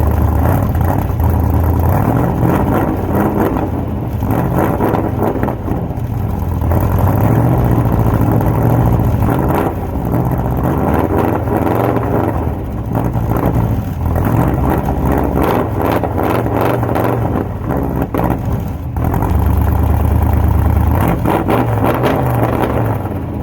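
A 1964 Chevy C10 pickup with a 355 V8 fires up and settles into a loud, lumpy idle, steady and close for over twenty seconds, with occasional swells from light throttle blips and no voices.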